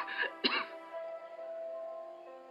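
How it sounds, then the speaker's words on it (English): A couple of short, sharp coughs from a girl in the video game Mad Father sound close, followed by a faint lingering hum. "She's coughing."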